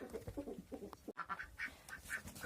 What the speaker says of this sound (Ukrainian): Качки купаються і купаються